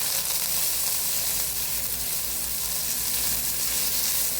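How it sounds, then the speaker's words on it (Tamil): Mustard seeds spluttering in hot oil in a pan for egg podimas, a close, steady crackling sizzle with no talk. "கடுகு நல்லா பொரியட்டும்"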